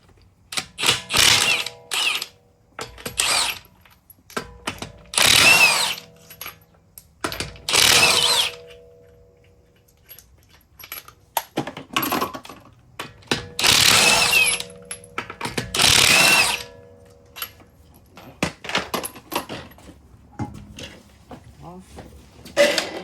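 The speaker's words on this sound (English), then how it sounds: "I'm going to get the wheel off, and then we'll take a look." A power tool spins the 22 mm lug nuts off the wheel of a 2009 Lexus RX350, giving loud, close, rattling bursts of a second or two, about seven times, with quieter clicks and handling between them.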